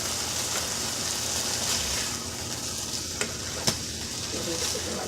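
Top round steak pan-searing on a stovetop under a lid, giving a steady, even sizzle throughout with a couple of faint clicks near the end.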